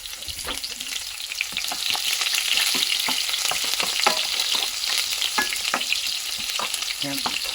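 Ginger and onion sautéing in a hot pan, a steady loud sizzle with frequent scraping stir strokes throughout, no voices.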